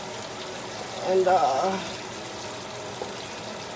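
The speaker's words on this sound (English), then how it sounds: "it's time to pour the chicken stock" Chicken stock poured into a pan of Nigerian fried rice, a brief liquid splash and sizzle lasting about a second, close and moderately loud, with a voice speaking over it.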